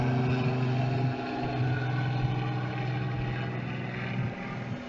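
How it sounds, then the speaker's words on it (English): A helicopter passes over the sea near a mackerel fishing spot, a continuous low engine drone with steady tonal hum, moderately loud and fading slightly, with no talking. "excuse the helicopter flying over."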